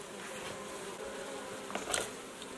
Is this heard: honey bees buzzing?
yes